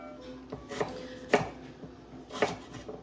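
A knife dices sweet potatoes on a cutting board, giving several crisp, separate chops at an uneven pace, close and clear with no talking.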